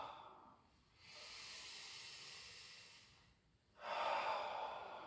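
Slow, controlled breaths during an exercise session: two long, airy hissing exhalations close to the microphone, separated by a quiet pause, with no talking.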